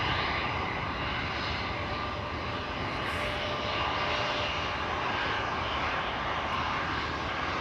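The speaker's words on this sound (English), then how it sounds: "Air Serbia going to Belgrade in a few moments." An Air Serbia airliner departing Amsterdam Schiphol for Belgrade produces a continuous broadband engine rumble at moderate distance, steady and unbroken, with no talking.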